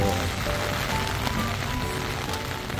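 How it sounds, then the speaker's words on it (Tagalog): Heavy rain pouring down in Baguio, a dense steady hiss of drops on surfaces, constant and fairly close, with no talking. "So ayan, first day namin umuulan sa Baguio."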